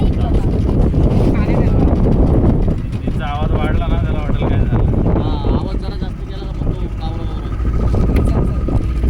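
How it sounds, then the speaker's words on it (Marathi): A motor boat engine runs steadily outdoors, a constant low drone partly masked by wind buffeting the microphone and by people talking over it throughout. "चालू केली त्यांनी आता पुन्हा बोट"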